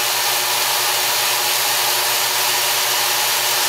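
Work Sharp Ken Onion Edition belt sharpener grinding a knife edge against its moving belt, a steady close hiss and whir that holds evenly throughout with no talking.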